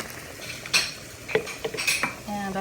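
A utensil scrapes and clinks against a pot several times in irregular strokes while stirring cilantro lime rice, with a soft sizzle underneath.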